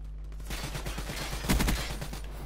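BRM rifle fire in Black Ops 3, a dense burst of gunshots over game background noise, swelling to a louder cluster of close shots midway through.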